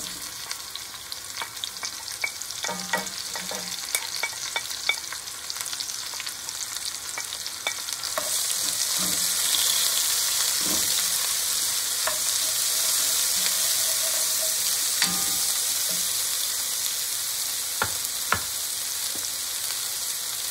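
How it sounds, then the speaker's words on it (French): Onions and shallots frying in a pan, a steady close sizzle that grows louder and denser partway through, with occasional clicks and scrapes of stirring. "je vais mettre les oignons et les l'échalote"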